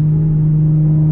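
A tuned car engine holds its revs in fourth gear on a straightaway. It gives off a loud, constant low hum with a steady drone underneath.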